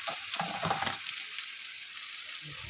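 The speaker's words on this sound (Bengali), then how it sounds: "আলুটাকে আমি লাল করে ভেজে নিচ্ছি" Potatoes fry in oil in a kadai, a steady close hiss of sizzling with a few soft stirring scrapes at the start and end, no voices.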